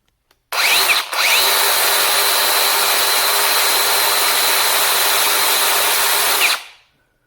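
Danero 40V cordless electric chainsaw revs up abruptly and runs at a loud, steady high-pitched whine for about six seconds, then winds down. It runs alone, close by, with no cutting and no speech.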